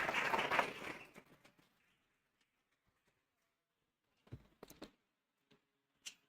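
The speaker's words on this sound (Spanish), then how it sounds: "ayúdenme a recibirlo con un fuerte aplauso." A church congregation applauds to welcome the preacher at a Sunday service; dense clapping fills the first second and fades quickly, leaving near silence with a few scattered soft knocks and taps.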